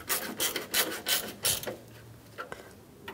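Grille bolts being tightened on a 1997–2001 Honda CR-V, a quiet series of short scraping ratchet-like bursts in an uneven rhythm, close up, with no talk.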